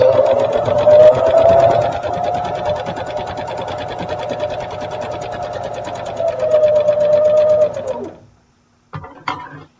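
A sewing machine stitches quilt blocks in a steady, close, continuous whir, running for about eight seconds before stopping, followed by a few brief clicks.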